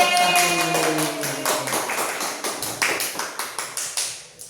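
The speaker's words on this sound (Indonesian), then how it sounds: "Beri tepuk tangan dulu untuk kelompok 1" Schoolchildren in a classroom clapping for the winning group, a quick burst of rhythmic claps settling into a steady pattern of separate claps that fades toward the end.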